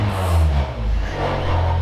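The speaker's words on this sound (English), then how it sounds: "There's that Honda fart sound." Exhaust of a 2001–2005 Honda Civic with its muffler detached, a loud, raspy, farting low rumble that dips briefly and then resumes, close up and steady for under two seconds with no talk.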